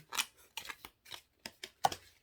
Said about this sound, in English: these are the cards, right? I'm just going to shuffle so that you guys know.